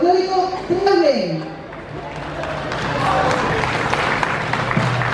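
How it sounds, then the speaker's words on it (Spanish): Festival audience applauds a folk dance group after an announcer's voice ends, and steady crowd clapping with some cheering builds and holds at moderate loudness. "lo recibimos con un tremendo aplauso al conjunto folclórico Trinidad"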